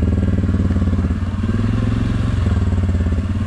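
Close and loud, an ATV engine churns with a rapid throbbing pulse during an off-road trail ride through autumn hills in Leota, Michigan, running continuously without a break.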